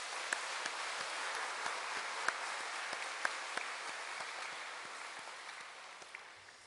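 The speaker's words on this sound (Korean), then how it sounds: "86년 전에 천안 땅에 우리 교회를 세워주시고 부흥케 하시고 우리 교회를 통해서 일하시고 영광 받으신 하나님께 감사의 박수를 함께 올려드립시다" Applause from a church congregation at an 86th anniversary Sunday service in Cheonan, a broad steady wash of clapping at moderate distance with a few sharper claps standing out, fading slightly toward the end.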